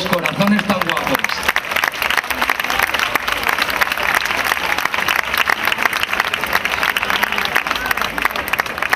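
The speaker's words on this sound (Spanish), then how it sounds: "quiero que ellas reciban un fuerte aplauso" A town-hall audience at the Serranilla de Mágina event in Huelma, Spain gives a loud, sustained round of applause. Dense clapping fills the whole stretch, with a voice speaking briefly at the start.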